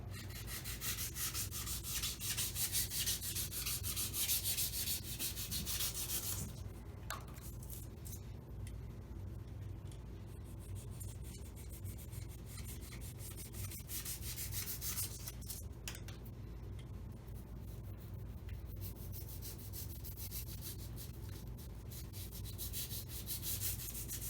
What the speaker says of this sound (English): I'm just going to keep shaving away.